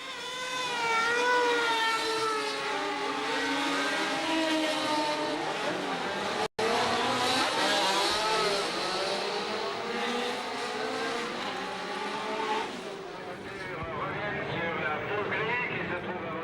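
Engines of 1972 Formula One race cars roar together at the race start, a loud sustained whine of revving motors with rising and shifting pitch that fades slightly toward the end, under a commentator's talk.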